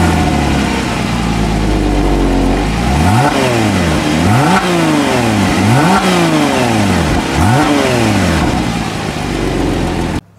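A 2010 Porsche Cayman 2.9 (987) engine runs loud and close, rumbling at idle before a series of about four sharp revs that rise and fall in pitch, then settling back down to idle.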